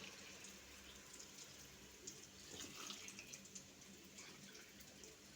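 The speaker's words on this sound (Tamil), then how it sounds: "இப்போது இதில் 4 கப் தண்ணி சேர்க்க போகிறோம்." Water is poured into ragi dosa batter, a steady, faint stream of splashing and trickling with no voices.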